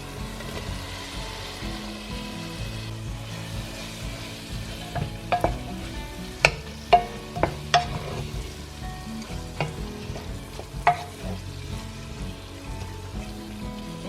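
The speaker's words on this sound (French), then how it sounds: "Maintenant je vais rajouter en fait les poivrons." Bell peppers hit softened onions frying in a pan for chili con carne, giving a soft, steady sizzle broken by scattered sharp clicks and scrapes of stirring, busiest through the middle stretch.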